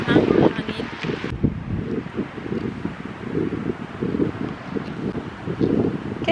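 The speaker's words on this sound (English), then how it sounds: "Sobrang lakas ng hangin." Strong wind on a beach buffets the microphone with a loud, continuous low rumble and gusts, with voices talking beneath it.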